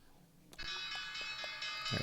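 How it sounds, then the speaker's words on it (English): The stock market opening bell rings over a live day-trading stream, a sustained metallic ring with steady repeated strikes, moderately loud and alone. "There's the bell."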